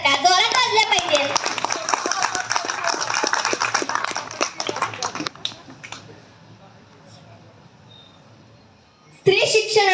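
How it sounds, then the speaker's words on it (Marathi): A crowd gathered for a Dr. Babasaheb Ambedkar birth anniversary event gives a guest a burst of sharp, rhythmic clapping that fades out midway. After a quiet stretch, a voice speaks over a public address system. "बाळासाहेबांचे टाळ्या वाजून स्वागत करा."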